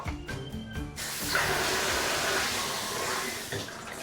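Water gushes steadily from a bathtub tap in a rental apartment as the pressure is tested, a loud continuous hiss and splash following a few brief knocks.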